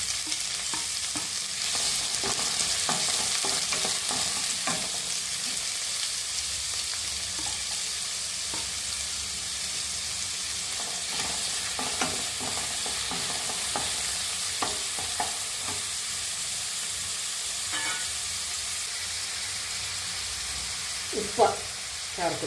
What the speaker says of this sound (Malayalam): സബോള അരിഞ്ഞത് ചേർത്ത് കൊടുക്കുന്നു.